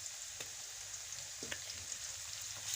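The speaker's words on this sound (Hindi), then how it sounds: "इसको अब इसके साथ अच्छे से फ्राई करेंगे और साथ ही हम इसमें अदरक लहसुन का पेस्ट डालेंगे" Whole spices frying with ginger garlic paste in a pan, a faint steady sizzle with a few light pops and stirring taps, close and quiet, with no talking.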